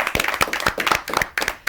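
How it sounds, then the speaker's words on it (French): Applause for award-winning school students at a televised ceremony: a short burst of crisp, uneven clapping from a small group, with no voices. "Et ça s'applaudit."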